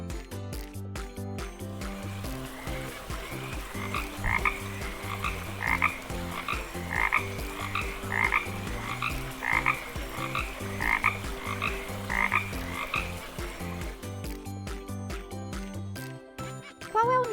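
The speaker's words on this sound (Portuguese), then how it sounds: "Muito bem, é o sapo." Frog croaking in a children's animal-sound lesson, a rapid run of repeated croaks over several seconds, clear and close, set against a soft musical backing.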